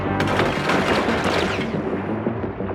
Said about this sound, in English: Fire at will, Captain. Make sure to use both of your guns.